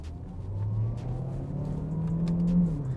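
A 2015 Peugeot 508 car accelerating hard, its engine tone rising steadily over a close, continuous low rumble, with faint bird chirps in the background.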